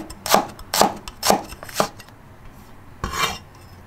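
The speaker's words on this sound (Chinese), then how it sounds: "姜切片" Knife chopping ginger into slices on a board: four evenly spaced sharp chops, a pause, then one more, close and crisp.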